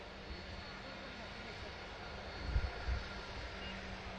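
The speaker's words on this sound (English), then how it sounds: "The VistaJet got a Bombardier Global 6000 pinging up for Zurich as well." A Bombardier Global 6000 business jet's engines roar steadily at an airport as it gets ready to depart for Zurich, a continuous broad rumble with a couple of brief low thumps near the end.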